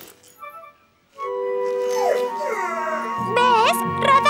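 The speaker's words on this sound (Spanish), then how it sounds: "¡Es un perro! ¡Un perro de rescate!" A cartoon rescue dog howls and whines in a long, rising and falling yowl with a few yips near the end, loud and close, alone after a brief quiet lead-in, with a low rumble joining late.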